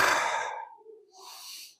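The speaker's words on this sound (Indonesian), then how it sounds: "Tarik napas dalam-dalam, ambil oksigen yang terbersih." One deep breath, a long airy exhale that fades out, followed after a short pause by a softer inhale, close and quiet with no talking.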